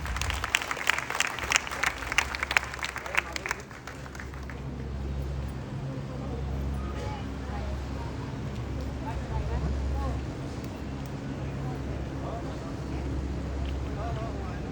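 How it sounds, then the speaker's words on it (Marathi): A crowd gives loud applause for the core team, with dense clapping for the first few seconds before it dies away into a low, steady room hum. "कोर लोकांसाठी जोरदार टाळ्या झाल्या पाहिजेत."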